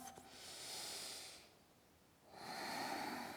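Slow, deep breaths during a yoga forward fold, one long airy exhale followed by a pause and then another breath, close and quiet with no talking.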